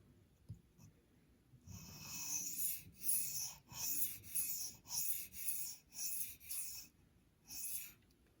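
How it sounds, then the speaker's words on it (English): A knife sharpened on a Spyderco medium bench stone: steady rhythmic rasping strokes, about nine passes, close and fairly quiet, with no voices. "let's sharpen on the other side now"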